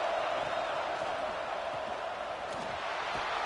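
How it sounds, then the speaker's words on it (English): A home crowd roars steadily in a college football stadium in CFB26, Georgia against Ole Miss, a dense, sustained wall of cheering that stays loud throughout. "how nice is it to have the home crowd going absolutely bananas?"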